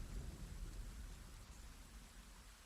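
Rain falls steadily as a faint, even wash of hiss with a low rumble beneath, unbroken and without voices.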